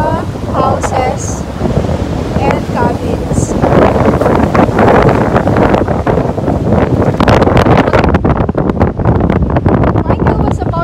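Strong wind buffets the microphone in cold mountain country near Storvika, Norway, a loud, continuous roar with gusting rumble that barely lets up, with faint talk underneath.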